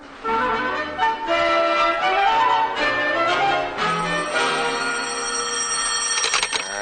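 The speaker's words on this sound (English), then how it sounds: "Get me the phone, Junior." A telephone rings in a 1950s Suspense radio drama, bell tones sounding alone and clearly over a faint musical background for several seconds.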